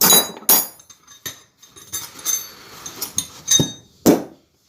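Metal plumbing and gas wrenches, including an old double-ended Mascot spanner, clank and clink as they are picked up and set down, giving a string of sharp irregular knocks with quiet gaps.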